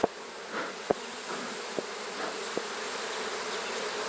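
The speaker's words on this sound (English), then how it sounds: "Just going to try and smoke some of these bees down a little bit for transport." Honey bees from a massive hive being split and smoked for transport make a dense, steady buzz that fills the air close by. A few sharp knocks sound over it.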